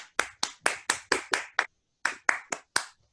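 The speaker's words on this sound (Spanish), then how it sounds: "un aplauso desde acá para los 13" A single person claps about a dozen times during an online meeting of teachers sharing virtual-teaching experiences: crisp, distinct claps in an even rhythm with a brief pause partway through, close and clear against near silence.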